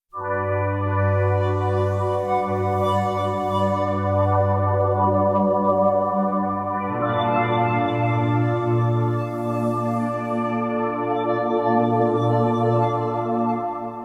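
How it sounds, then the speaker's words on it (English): Sustained Korg OASYS synthesizer pad with a rich harmonic drone that shifts timbre partway through, one tone fading smoothly into another as the sound evolves. "give them an individual crossfade so that the sounds change"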